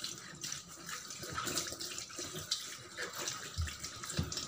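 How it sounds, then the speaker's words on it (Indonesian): Water rushes from a washing machine during a curtain rinse as a steady splashing flow with gurgles and a few low thumps nearby. "ini tetap hidup ya, air tetap terbuang"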